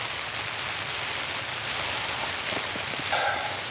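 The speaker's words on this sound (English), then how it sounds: "The rain's going pretty steady outside, but without that driving wind forcing it onto the tent, it's not super loud." Steady rain patters on a tent during a solo camping night in a rainstorm, a soft continuous hiss heard from inside, fairly quiet with no strong gusts.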